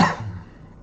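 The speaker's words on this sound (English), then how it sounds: "Sorry, excuse me for the cough." A single close, sharp cough that fades quickly into quiet room tone, with no talking around it.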